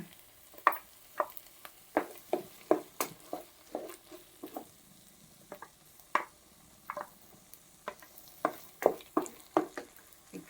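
Tomato masala fries in a pan for an egg masala dish, with a spatula stirring and squishing through it in irregular, close strokes over a faint background sizzle.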